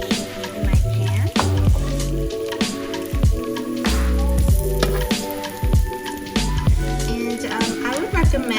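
Okonomiyaki batter goes into a hot pan in a series of wet, squishy plops and drips over a soft sizzle, close by, with a voice at times.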